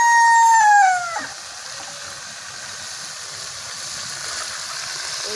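A village rooster crows once at moderate distance. The call is a drawn-out tone that trails off after about a second, and a soft steady background hiss follows.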